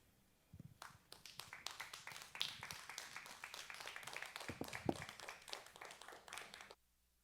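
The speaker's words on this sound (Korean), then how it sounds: "여러분 큰 박수 부탁드리겠습니다." A quiet audience at a Korean humanities concert applauds as a performer is welcomed onstage, a soft but busy patter of many hands lasting about six seconds before stopping abruptly.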